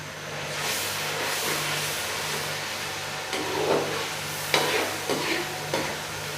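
Masala with tomatoes fries in a pan for a Punjabi sarson ka saag, giving a steady soft sizzle with occasional stirring scrapes and small crackles at moderate loudness, close to the listener.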